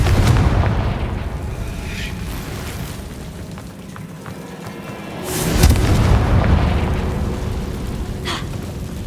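Confringo spell explosion in the video game Hogwarts Legacy: a deep booming blast near the start, a quieter rumbling lull, then a second loud boom with rolling rumble around the middle, no talk.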